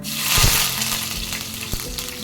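Curry leaves drop into hot oil already holding mustard seeds and cumin for pav batata, bursting into a loud, close, continuous sizzle and crackle.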